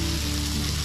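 Water poured into a pan of spices and potatoes being fried for an egg curry sets off a loud, steady sizzle, a brief constant hiss with a low bubbling undertone.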